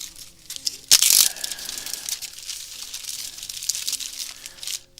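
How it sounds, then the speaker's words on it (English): Bags of fly-tying materials, including deer and elk hair, being rifled through at a tying bench: a loud burst of plastic crinkling near one second, then softer rustling and handling throughout, close by. "Yes, that's the sound of me rifling through"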